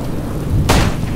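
Lightning strike in the zombie survival game 7554, heard as a sudden broadband thunder crack and rumble arriving about two thirds of the way in over a low background of rain, loud and close.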